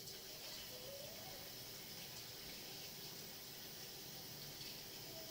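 Water runs steadily from a kitchen faucet during dishwashing, a constant quiet gush with no talking.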